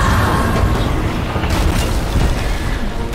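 A heavy cannon shot impact from the video game Sea of Thieves booms loudly, followed by a rumbling, creaking aftermath that stays dense and forceful for a few seconds.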